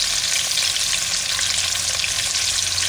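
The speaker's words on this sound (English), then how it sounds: "Just sear them up in a little oil like that." Food sears in a little oil in a pan, a dense, even, loud frying sizzle crackling steadily and close throughout, with no talk.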